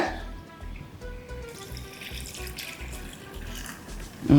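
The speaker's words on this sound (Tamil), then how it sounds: "ஒரு ஒரு கப் அளவுக்கு தண்ணி சேர்த்துக்கோங்க" Steady running water, about a cup, pours into a cooking pot of chilli chicken, a continuous splashing rush with faint clinks and kitchen noise, ending in a brief louder knock.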